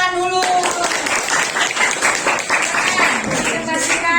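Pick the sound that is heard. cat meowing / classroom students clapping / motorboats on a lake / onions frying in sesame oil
classroom students clapping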